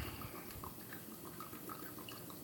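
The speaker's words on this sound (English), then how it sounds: "Just going to watch me pour the rest of this teriyaki marinade in here." Teriyaki marinade poured into a container of meat for jerky, a faint, soft trickle of liquid with light drips and splashes running steadily and quietly throughout.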